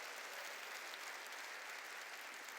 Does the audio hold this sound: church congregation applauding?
yes